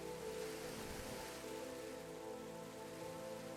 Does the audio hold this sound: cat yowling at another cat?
no